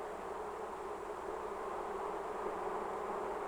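A dense, steady buzz of many honeybees inside a hive fills the space, a continuous droning hum with no pauses and no voices.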